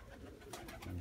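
Pigeons coo softly inside a pigeon loft, a brief low burbling with a faint call near the end, quiet and close.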